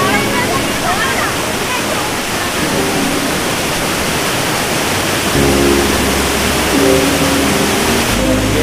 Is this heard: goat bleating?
no